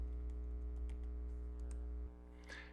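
Typing on a computer keyboard to enter a search term in a website builder: a short burst of light, close key clicks over a loud steady electrical hum, with no voices.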